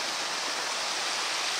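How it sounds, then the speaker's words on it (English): A sizeable waterfall on a trail in the Canadian Rockies roars with a constant, dense broadband rush, steady and loud throughout with no voices. "A little waterfall. Not so little waterfall."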